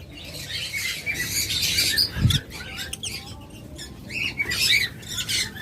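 Pet doves, cockatiels and budgerigars at a bird sale squawk and chirp in a dense, continuous chorus of shrill calls, with louder bursts rising now and then over a steady background noise.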